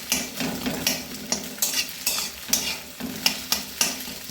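Scrambled egg with onion sizzles in hot oil while a spatula scrapes and stirs the pan in a quick, regular rhythm, close up and with no voices.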